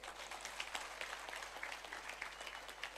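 Faint, steady applause from an audience at a Hosanna Ministries international seminar after a song, a dense patter of many hands clapping continuously with no voices over it.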